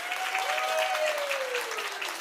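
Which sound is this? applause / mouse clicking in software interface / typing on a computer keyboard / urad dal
applause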